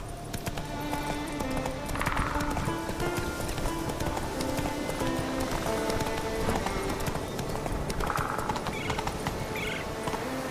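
Horse hooves clip-clop in a steady galloping rhythm through The Witcher 3 video game, with faint whinnies near the start and again later over a constant background of game ambience.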